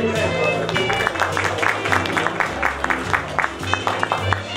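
An audience claps for Tanja at a baking workshop, a steady patter of many hands sustained over background music throughout.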